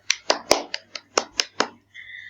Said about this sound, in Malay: Okey, semua berikan tepukan.